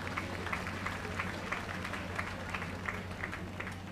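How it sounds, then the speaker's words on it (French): Applause from a crowd at a religious congress, steady moderate clapping with rhythmic bursts, heard at a distance over a low hum and faint voices. "Applaudissons mes bons anges"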